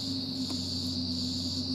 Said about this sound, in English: we've got cicadas